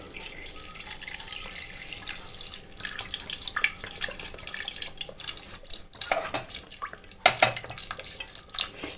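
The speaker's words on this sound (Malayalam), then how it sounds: "വെള്ളം ഒഴിച്ചു കൊടുക്കാം." Water poured into a pressure cooker holding pumpkin pieces and half an onion, with a trickling splash, dripping and a few light metallic clinks of the pot close by, no voices.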